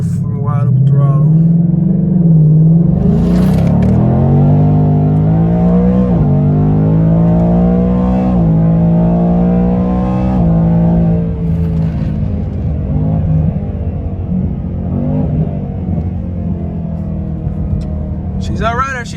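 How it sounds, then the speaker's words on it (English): A 2019 Ford Mustang's engine is pushed to wide open throttle, its loud, rumbling note climbing steadily through the revs before easing back to a lower drone as the car rolls on. "So we're gonna get a fucking wide open throttle."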